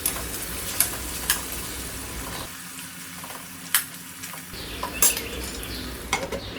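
Parwal (pointed gourd) sabzi cooks in ghee, a steady close sizzle broken by several sharp clinks and scrapes of a spoon stirring in the pan, with no talking.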